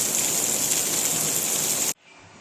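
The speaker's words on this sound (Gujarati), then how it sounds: "પાછો વરસાદ શરૂ થઈ ગયો છે" Steady, dense afternoon rainfall in Modasa hissing close by, then cutting off abruptly near the end.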